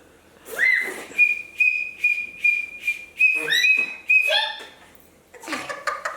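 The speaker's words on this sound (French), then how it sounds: "C'est comme ça qu'elle siffle." A child whistles a steady high tone in a repeated pattern of short pulses, close and clear, then the whistle wavers and breaks up before a brief gap and a few more puffs of sound.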